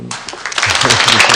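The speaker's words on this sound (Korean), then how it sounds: "우리 환영의 박수를 한번" Church congregation applauding in welcome during a Sunday worship service, a burst of clapping that swells and keeps going steadily, with a voice briefly mixed in at the start.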